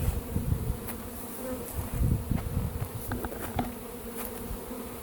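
Honey bees buzzing at a hive entrance, a soft steady hum with individual bees droning past close by, fairly faint overall.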